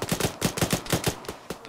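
Rapid bursts of gunfire in the tactical shooter Arma during a ShackTac squad match, roughly ten sharp shots in a quick uneven rhythm, loud and close, with the last few more spaced out.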